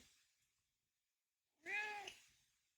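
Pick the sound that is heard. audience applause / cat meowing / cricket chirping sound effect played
cat meowing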